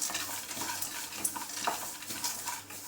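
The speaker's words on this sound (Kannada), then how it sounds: "ಸ್ವಲ್ಪ ಎಲ್ಲ ಗೋಲ್ಡನ್ ಬ್ರೌನ್ ಬರೋಷ್ಟು ರೋಸ್ಟ್ ಮಾಡ್ಕೊಳ್ಳಿ" Peanuts roasting in a pan and being stirred, with a soft steady sizzle and scraping strokes of a spoon repeating close by through the whole stretch, no voices.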